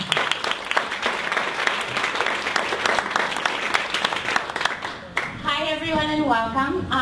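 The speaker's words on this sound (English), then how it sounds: "So let's give them a round of applause." Audience applause for a marketing panel at a business event, dense steady clapping for about five seconds that stops abruptly, followed by tonal music or sounds.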